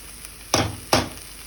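Soaked rice and dal tipped into hot, sizzling masala for bhog khichuri, two loud bursts of hissing sizzle a short moment apart, each fading quickly over a faint steady background.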